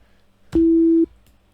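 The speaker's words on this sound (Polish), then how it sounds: "mamy sobie taką sinusoidę" A pure sine wave from a synthesizer oscillator, pitched down two octaves, sounds as a single steady low tone for about half a second, loud and clean, starting and stopping abruptly with no voice over it.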